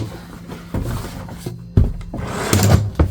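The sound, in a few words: drawer closing in Winnebago View motorhome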